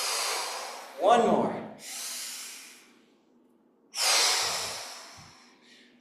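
Deep rhythmic breaths during a qigong heart exercise alternate between audible inhales and long airy exhales, each lasting about a second or two, close to the microphone. A calm voice briefly speaks between breaths.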